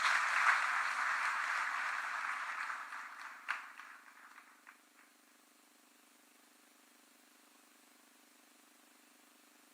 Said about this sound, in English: Another warm clap for the chair